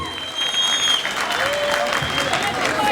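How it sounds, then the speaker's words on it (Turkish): A concert audience in Kağıthane, Istanbul, applauds steadily for about three seconds, dense continuous clapping with a few high whistles riding on top. "Birbirimizi bir alkışlayalım mı lütfen?"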